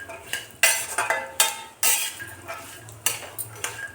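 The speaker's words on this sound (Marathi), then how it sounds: "थोडं करूनच टाकायचं आणि भाजून घ्यायचे आपले ड्रायफ्रूट्स" Dry fruits roasting in ghee for dink laddu, with a utensil repeatedly scraping and clinking against the pan in short bursts over a faint low sizzle, close and fairly loud, no voices.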